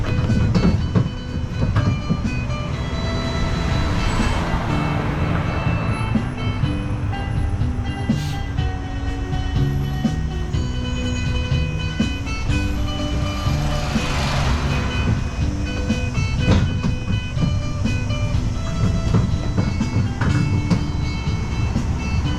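A road-going tourist train rolls steadily along with a continuous rumble and rhythmic clatter, fairly loud and close, with no voices over it.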